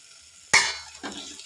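Jaggery syrup is poured into chicken in a hot pan, setting off a sudden loud sizzle that slowly fades, followed by a second, softer burst of frying a moment later.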